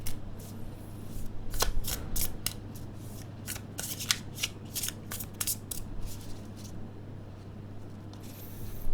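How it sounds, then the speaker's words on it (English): Playing cards are riffle shuffled up close, giving bursts of quick flapping clicks in several short rounds, with no talking. "Okay, a quick riffle shuffle,"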